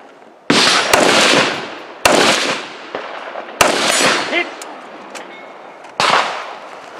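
Gunshots on a practical shooting competition stage in Finland: four loud, sharp reports spaced about a second and a half apart, each with a long rolling echo, plus a few fainter pops between them.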